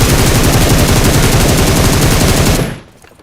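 Rapid, dense heavy automatic gunfire in PUBG Mobile roars continuously at close range, heavy and loud, then cuts off abruptly near the end.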